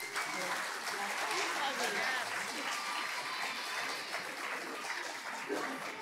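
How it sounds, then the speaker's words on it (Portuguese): An audience in a hall applauds a senior carnival group's bailinho performance at Carnaval with sustained, fairly distant clapping, voices murmuring underneath. "O que a gente tem para oferecer para eles é uma grande salva de palmas"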